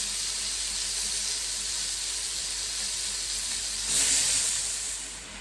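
Jamaican oxtail with green seasoning frying in a pot, giving a continuous loud sizzle and steamy hiss that swells briefly near the end, with no voices.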